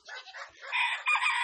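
Chickens on a poultry-breeding farm give a loud, close crow-like call that rises and holds strongly toward the end, with no one talking.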